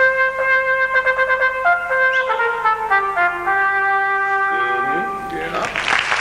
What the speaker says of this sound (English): Let's just hear one of our cornet players.